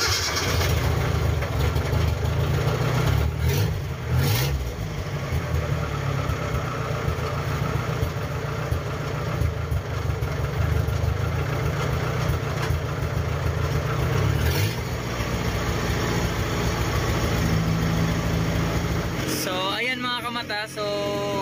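A Toyota 4K engine in an owner-type jeep idles steadily nearby, a low, even rumble with a throbbing pulse that holds for about twenty seconds, with a faint clatter and a brief rise toward the end.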